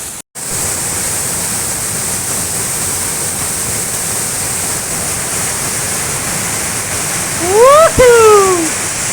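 Urulikkund waterfall in Kannur sends water crashing onto rocks in a close, steady broadband roar. A few brief chirps rise above it near the end.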